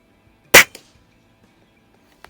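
A Daisy model 131 .177 break barrel air rifle fires once on a shooting range. The shot is a single sharp, loud crack. Near-silence follows, broken by a faint click.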